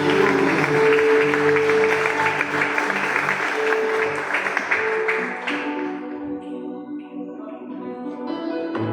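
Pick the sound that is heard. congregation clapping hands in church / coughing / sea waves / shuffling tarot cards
congregation clapping hands in church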